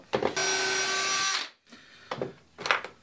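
A power drill drives a screw into wood while a home minigolf course is built, one loud steady whine of about a second, then a pause and a few short clicks and knocks.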